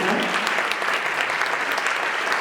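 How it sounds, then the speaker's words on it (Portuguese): Audience applause for the friars at a mission-month church gathering, a brief, dense burst of clapping that stays full and even throughout. "salva de palmas aqui para os freis"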